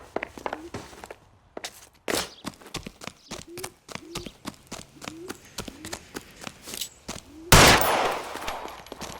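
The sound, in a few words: gunshots in L.A. Noire, video game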